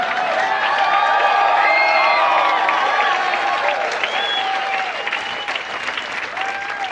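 Comedy show audience clapping loudly and steadily throughout, a dense sustained wash of applause with a few cheers rising above it, easing slightly toward the end.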